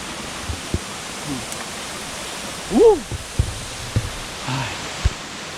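Constant rushing roar of Pa Mak Waterfall in Thailand in the rainy season, where water springs from the rock, with a brief voice-like call and a few faint clicks heard over it.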